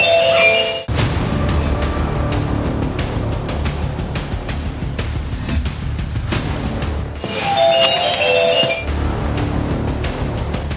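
A house doorbell is rung twice: a short tonal chime at the start, then a second a few seconds later, with steady outdoor noise between the rings.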